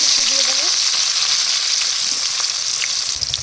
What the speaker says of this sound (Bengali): মাছ ভাজা তেলের মধ্যে পেঁয়াজ